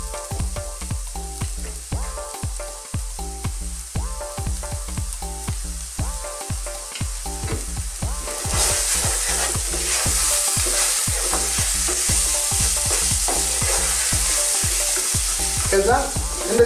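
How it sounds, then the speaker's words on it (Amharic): Onions fry with salt in a pan for an Ethiopian eggplant wot, giving a steady sizzle under rhythmic scraping stir strokes; the sizzle swells louder partway through. "ጨው አደርግና አብሮ እንዲበስልልኝ"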